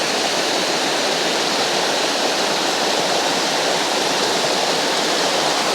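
A small waterfall rushes with a loud, dense roar that stays constant and close throughout, with no voices or other sounds breaking through.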